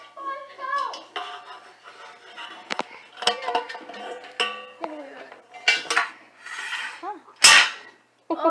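Metal pots and pans from an Ozark Trail 22-piece camp cook and dine set clatter and clank in repeated bursts, with sharp knocks near the end, as voices talk intermittently.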